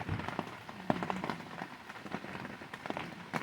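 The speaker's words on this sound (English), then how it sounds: "We had a little brief stop in the rain and it's back again." Steady rain patters on surfaces outside, a dense, continuous wash of drops with scattered louder splats, even and moderately loud throughout, no one speaking.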